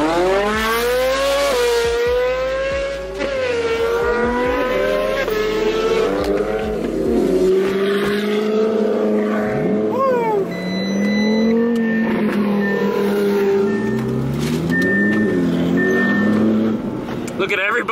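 A very loud Ferrari engine revs hard while driving on a road run from Malibu to Monterey, its rising and falling engine note steady and close throughout, with shouting voices over it.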